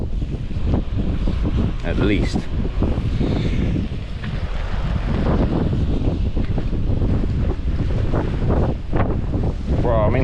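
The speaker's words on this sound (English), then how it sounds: "Jeez, it's windy. Be blowing a good 50 now," Strong wind at sea at night buffets the microphone in loud, continuous gusts around a small fishing boat, with rain and water noise mixed in.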